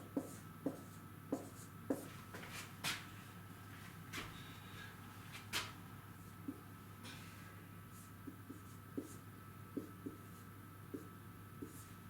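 Chalk or marker writing on a board during a mathematics lecture: quiet scratchy strokes and sharp taps at an irregular pace over a steady low room hum, no voice.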